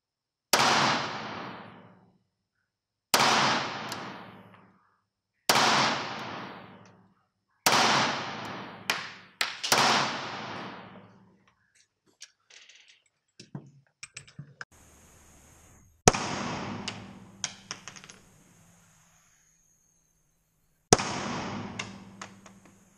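Sharp, loud single shots from a Beretta APX Centurion 9x21 pistol firing 124-grain rounds, each with a quick decaying echo. About eight reports come at irregular intervals, some in quick pairs, with quiet handling noises between.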